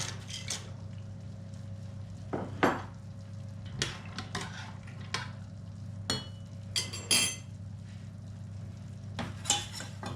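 Pasta added to a pot of salted water for mac and cheese, heard as scattered clinks and knocks of a pot and utensils, a few sharper metallic taps over a steady low hum, no talking.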